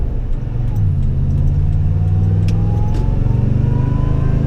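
Supercharged Toyota Tundra engine accelerating in tow/haul mode, a loud, close, rising engine drone climbing steadily in pitch through the gears, heard alone without speech.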